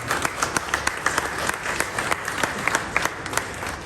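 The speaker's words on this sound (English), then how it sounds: "a round of applause I think for John Ryder for that performance tonight" A press-conference audience claps for boxer John Ryder after his fight against Canelo Alvarez, producing steady, moderate applause with dense, overlapping claps throughout.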